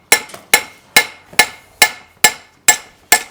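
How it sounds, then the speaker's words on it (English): Hammer blows on hot steel while forging a fullered horseshoe, eight sharp ringing metallic strikes at a steady, even rhythm, loud and close with no talk. "Right now I'm just running the round end of my hammer"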